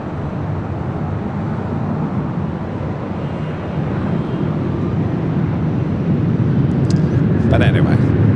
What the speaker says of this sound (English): there's a takeoff on that direction